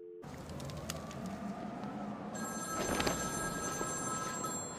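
A telephone rings in the Batman Arkham City video game, a steady electronic ring that starts partway through and continues over a dim, rumbling background.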